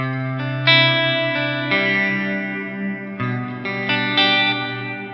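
Electric guitar chords played through an HX Stomp with an ambient reverb set around half wet, sustained and washy, each new chord swelling in over the lingering tail, heard alone and fairly loud.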